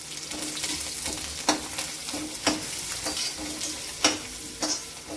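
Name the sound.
tempering (phodni) with turmeric sizzling in a pan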